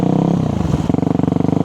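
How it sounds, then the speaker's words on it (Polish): A motorcycle engine revs hard, climbing then settling into a fast, throbbing pulse, close and loud, as a rider builds revs while learning to do a wheelie. "po prostu napędzacie się, zwiększając obroty silnika"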